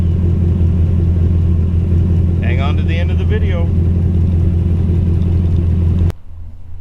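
A 1932 Ford roadster with an LS1 engine idling with a steady, loud low rumble close by; a voice talks briefly over it before the sound cuts off abruptly near the end.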